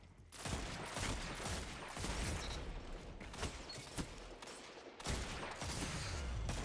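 The Dead Man's Tale exotic scout rifle fires in the Destiny video game, a dense run of repeated shots and mechanical clatter that is loud and continuous.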